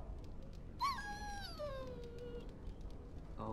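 A dog in the video game Dragon Age Origins lets out a single drawn-out whimpering whine that slides downward in pitch, fairly close and clear over quiet background.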